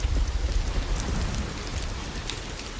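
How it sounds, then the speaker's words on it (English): Steady, dense rain falls in the World War I video game Valiant Hearts near a mine guard post, a soft continuous hiss of drops with a faint low rumble beneath. No speech is heard. "It's starting to rain,"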